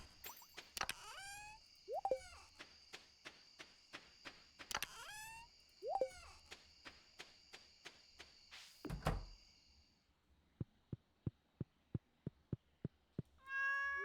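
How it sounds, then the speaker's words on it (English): A cat meows several times in the video game Stardew Valley, its cries set over steady game music with a rhythmic pattern of plucked notes, clear and close, with no talking. "Always pet the cat when you can."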